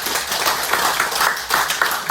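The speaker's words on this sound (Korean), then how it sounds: "고생해주신 성전 스님께 큰 박수 필요합니다" An audience at a Buddhist event applauds a monk after his lecture, with loud, close clapping from a modest group where some individual claps stand out in an uneven rhythm.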